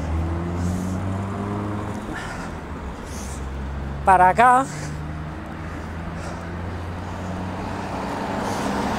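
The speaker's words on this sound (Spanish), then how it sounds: "donde vienen estos coches" Cars passing on a roadside at night, a steady rumble of traffic with engines swelling and fading nearby, while someone talks over the noise.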